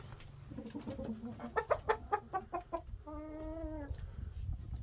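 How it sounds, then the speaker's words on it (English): Young brown broody hen sitting on a clutch of eggs, giving a rapid series of clucking pulses followed by a drawn-out, wavering chirping call, close by with faint background noise. "I knew there was a broody hen because she was chirping"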